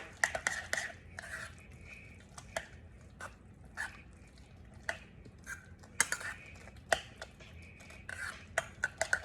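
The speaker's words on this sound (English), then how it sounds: "I'm just gonna go ahead and mix my raita." Raita being mixed in a bowl, with a spoon clinking and scraping against the dish in irregular taps, close and fairly quiet.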